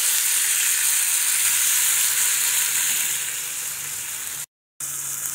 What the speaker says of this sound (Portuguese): Eu vou jogar aqui um pouquinho de água quente.